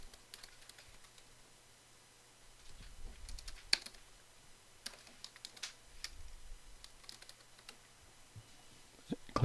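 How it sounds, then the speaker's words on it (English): Fingers type on a computer keyboard in short uneven bursts of close, light key clicks with pauses between them. No one speaks. "type the full custom domain name"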